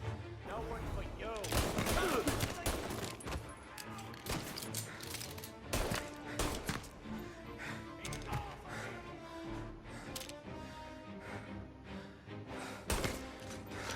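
Rapid gunfire bursts in the video game Mafia Definitive Edition, loud sharp shots and crashes in a dense, busy firefight mixed with game music and effects.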